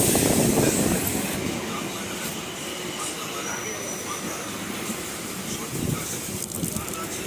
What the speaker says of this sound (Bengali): আমাদের সোনারপুর লোকালটা ঢুকছে এবার